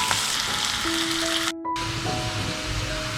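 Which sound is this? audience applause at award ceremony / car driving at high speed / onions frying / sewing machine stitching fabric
onions frying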